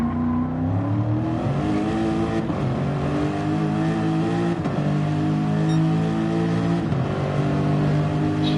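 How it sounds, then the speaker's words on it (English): A Gr-3 race car in a racing video game revs hard and steadily, its loud engine note climbing and dipping through repeated gear changes with no pauses. "Revving the absolute bejesus out of it"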